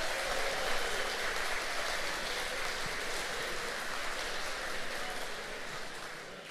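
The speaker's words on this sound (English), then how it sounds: "Let's give them a huge round of applause." Audience at a mayor's State of the City address breakfast applauds the Franklin Breakfast Rotary, with steady, dense clapping that fills the room at full volume and holds for several seconds before easing slightly.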